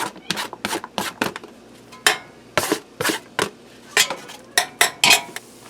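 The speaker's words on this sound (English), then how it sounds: "I'm going to get them in here and saute them until they get nice and tender." Diced onion and mushrooms being sautéed in a pressure cooker pot, with a spoon scraping and clanking against the metal in a steady run of sharp, loud, close strokes and no talking.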